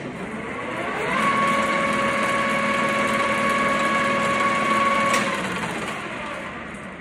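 Cincinnati Bickford Model 1L 21-inch single spindle drill press spinning up to 3000 RPM, a steady high mechanical whine with harmonic tones swelling then easing, nearby and continuous with no talk.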